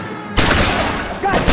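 Pistol fire in the video game L.A. Noire comes as a loud, close burst of shots with a dense, roaring blast right after a quiet opening. Another loud crack follows near the end.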